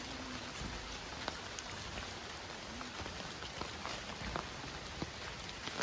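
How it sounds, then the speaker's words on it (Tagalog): Steady rain falls on a hiking trail near Aritao Quad Peak in Nueva Vizcaya, a dense continuous patter of drops with scattered sharper individual hits, fairly close and uniform throughout, with no voices. "Kasi umuulan."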